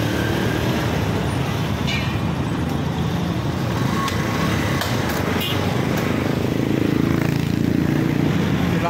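A misfiring Honda NS125 fuel-injected motorcycle runs steadily and loud throughout, its rough, uneven engine note sitting close by with a broadband roadside wash around it.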